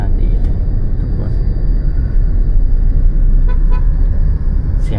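Short car horn toots sound over a constant low rumble of heavy Da Nang street traffic, with a few faint honks scattered through the busy, near roadside din.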